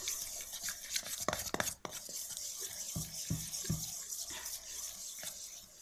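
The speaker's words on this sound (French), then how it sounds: "on va avoir besoin de la cuillère pour touiller, mélanger" Spoon stirring homemade slime in a bowl, wet squelchy scrapes and clicks in an irregular rhythm, close and fairly quiet.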